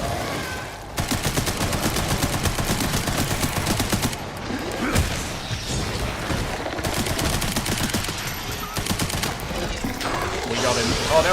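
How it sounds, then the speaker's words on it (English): Rapid submachine gun bursts in the Resident Evil Requiem video game rattle in long sustained volleys, loud and close, broken by short gaps, while a player talks over the gunfire. "We can try the SMG."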